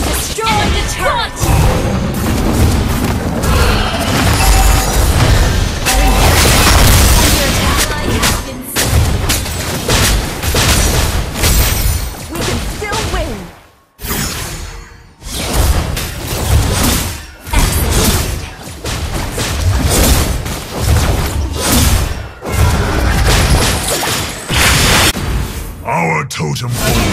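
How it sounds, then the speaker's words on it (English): Loud, nearly continuous explosions and booming impacts from a video game battle in which a turret is destroyed, with a game announcer's voice speaking over the din and a brief lull midway. "team destroyed the turret"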